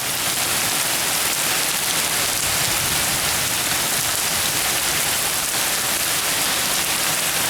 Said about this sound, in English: It's a rainy night here under the shade tree.